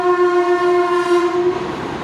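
Train passing close by, its horn sounding loud and steady over the rumble of the rails, with no talking.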